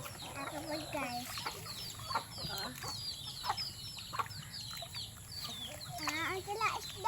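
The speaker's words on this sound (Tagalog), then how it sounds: "Oh, ang daming manok. Oh, daming manok." A flock of chickens clucks steadily at a countryside farm, with overlapping soft calls at moderate distance and faint voices in the background.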